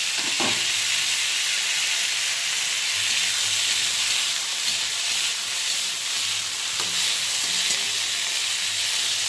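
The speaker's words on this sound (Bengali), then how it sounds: "এবার এই তেলের মধ্যে আমি পাতাগুলো দিয়ে দেবো, নিম পাতাগুলোকে" Neem leaves frying in hot oil in a home kitchen give a steady, loud, dense sizzle with a faint hiss and a few soft clinks of the utensil, no talking.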